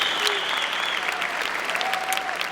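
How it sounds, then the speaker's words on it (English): Applause at a high school graduation ceremony: a crowd claps steadily and fairly close throughout the short stretch, with no speech over it. "Yeah, we need to clap for that."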